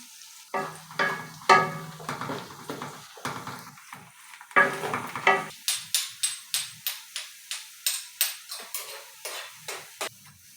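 Onion frying in a pan until golden brown, with repeated spatula scrapes and stirring strokes over a faint sizzle, the strokes coming in a quick, even rhythm toward the end.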